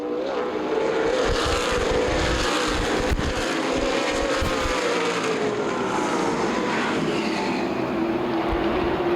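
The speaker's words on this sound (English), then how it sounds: "KC Spillers leading, much more power underneath the hood there." Late model stock cars race at Winchester Speedway, a continuous loud roar of several engines with shifting pitch as cars pass, heard alone without talk.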